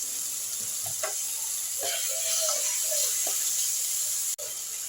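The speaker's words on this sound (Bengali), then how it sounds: "এক মিনিট একটু টমেটোটাকে আমি নুনের সঙ্গে ভাজা ভাজা করলাম।" Chopped tomatoes fry with salt in a hot pan for a Bengali egg curry, giving a steady, fairly loud sizzle with a few soft stirring knocks and one sharp click near the end, no voices.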